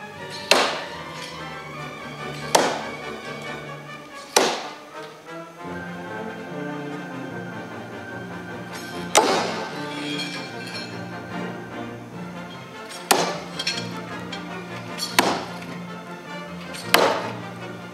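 Long 14-inch commercial throwing knives strike a target in turn, giving sharp, ringing thuds spaced every couple of seconds, with a faint steady hum in the background.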